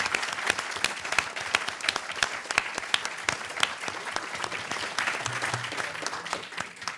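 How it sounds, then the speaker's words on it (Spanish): A book launch audience applauds the book "Andrés Bello: libertad, imperio y estilo" with a continuous, moderately loud roar of clapping from many people that holds steady throughout. "Así que yo les pediría un aplauso porque Roneo ha hecho un trabajo excepcional"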